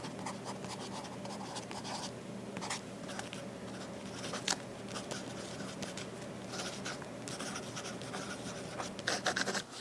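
A pen scratches and scribbles across a reMarkable 2 tablet screen, producing continuous close-up papery writing strokes with brief taps and short pauses.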